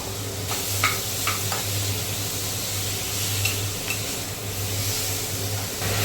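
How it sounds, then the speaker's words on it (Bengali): Minced chicken with salt, turmeric and spice fries in a pan for a chicken and pointed gourd dish, a steady close sizzle broken by several scraping stirs. "কিমা করা আছে চিকেনটা দিয়ে দিলাম"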